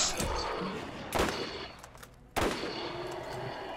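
Gunfire in the video game Borderlands, with two sharp shots about a second apart standing out over a dense, continuous bed of game sound and loud, close action noise.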